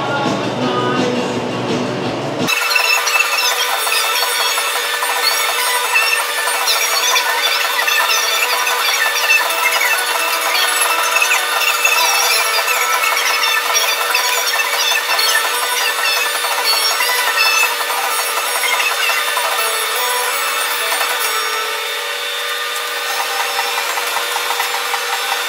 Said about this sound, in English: we'll start blocking out the sills